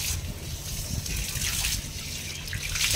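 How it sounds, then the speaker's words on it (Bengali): Tap water running steadily into a rooftop fish pond, a continuous rushing trickle and splash heard close, with no voices over it. "এই কলের মুখটা পুরোপুরি খুলে দিই, তাহলে জল ভর্তি হতে অনেক টাইম লাগবে"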